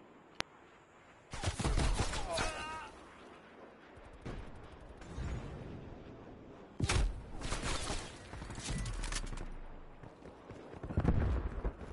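Bursts of video game gunfire from Call of Duty: Cold War, loud clustered shots in several rapid volleys separated by quieter gaps, with a player talking between them.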